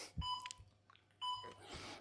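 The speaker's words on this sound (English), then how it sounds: "There will be a 15 second beep, and after that it's again a minute." A timer marking the end of a one-minute karlakattai swing interval gives two short electronic beeps about a second apart, clear and fairly close, with faint background noise between them.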